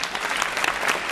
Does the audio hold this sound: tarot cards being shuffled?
no